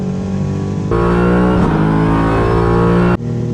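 A street car's engine roars loudly at high revs near 8,000 RPM during a race against a V8 Supercar, a sustained harsh drone heard from inside the car, with a brief dip at a gear change near the end.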